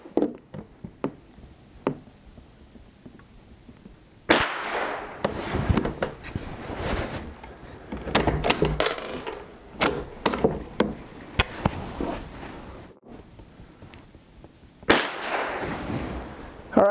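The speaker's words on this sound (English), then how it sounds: "All right, there's 5 shots." Five sharp cracks ring out from a 1930s Mossberg Model 40 .22 bolt-action rifle at an outdoor range, spaced several seconds apart. Quieter handling clicks and knocks from working the bolt fall between the shots.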